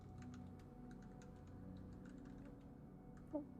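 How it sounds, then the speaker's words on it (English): Aggressive typing on a computer keyboard, a quiet, steady run of fast clicking keystrokes heard alone at low level. "Aggressive typing."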